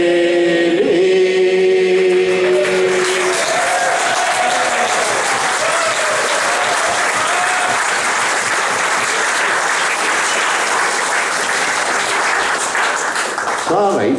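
A concert audience at a bowling club claps continuously for over ten seconds, a dense, steady applause that follows the end of a sung note and fades slightly near the close.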